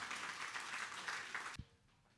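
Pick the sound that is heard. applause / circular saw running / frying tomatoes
applause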